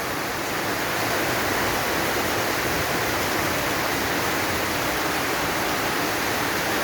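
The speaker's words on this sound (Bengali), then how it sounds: "তো দেখতে পাচ্ছেন অনেক বৃষ্টি, অনেক বৃষ্টি।" Heavy rain pours down in a dense, steady roar that fills the whole stretch evenly and close by, with no voices or other sounds breaking through.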